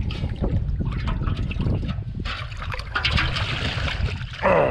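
Salt water is scooped from the shore at a remote campsite, with close splashing, trickling and gurgling that shifts irregularly and ends in a louder rush as the container fills.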